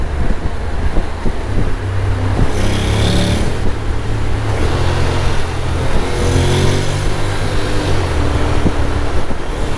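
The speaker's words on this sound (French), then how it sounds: "on va essayer de rétrograder avec la boîte séquentielle." A 2025 Honda Forza 750 scooter with a sequential gearbox drones loudly and continuously close to the microphone, its engine note stepping through downshifts, with heavy wind buffeting over it.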